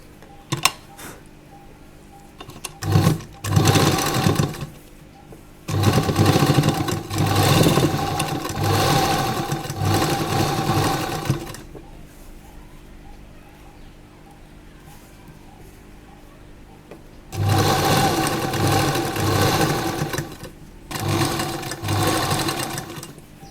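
A sewing machine stitches an A-line kurta in loud, close bursts of running, around 3, 6–11 and 17–23 seconds, separated by quieter pauses.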